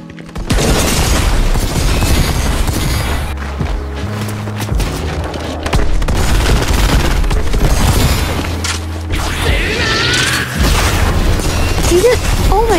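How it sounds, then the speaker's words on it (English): Overpowered guns firing nonstop in a chaotic video game, with a dense, loud barrage of booms and bursts running through the whole stretch, broken only by a brief lull near the middle. "I got a full loaded of guns, and I was ready to test them out."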